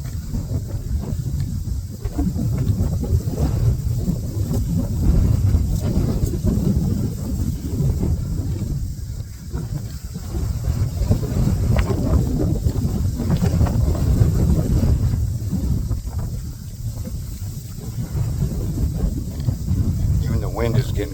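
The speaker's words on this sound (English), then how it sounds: "Wind is getting comfortable now." Strong wind buffets the microphone on a hiking club trail at Glacial Lakes State Park in Minnesota, a loud continuous low roar that swells and eases in gusts for the whole stretch.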